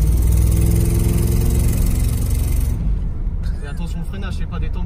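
Old car's engine drones steadily while being driven, a loud low rumble with harmonic hum that thins and drops in the second half, under background voices.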